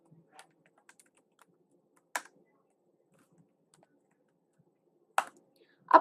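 Keys on a computer keyboard are pressed while a rack number is entered in billing software, a few sparse, isolated taps separated by long quiet gaps.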